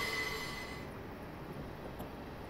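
A train's wheels squeal as it turns, a thin, piercing high tone that fades after the first second, leaving low rail rumble and a brief faint screech near the end.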